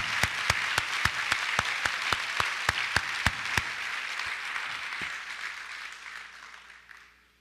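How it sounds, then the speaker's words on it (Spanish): A church congregation applauds at a service, giving a steady patter of many hands over a dozen regular, sharp beats, then the clapping fades away into quiet. "Si vas a dar un aplauso al Señor, dale bueno."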